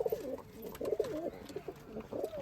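Kalshira Giribaj pigeons coo in throaty, wavering phrases close at hand, several rolling calls following one another with brief pauses between them.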